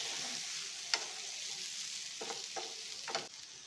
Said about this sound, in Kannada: ಪ್ರಾನ್ಸ್ ಹಾಕ್ಕೊಂಡು ಸ್ವಲ್ಪ ಹೊತ್ತು ಫ್ರೈ ಮಾಡ್ಕೊಳ್ಳೋಣ